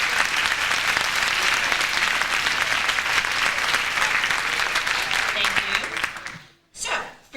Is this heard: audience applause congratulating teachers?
yes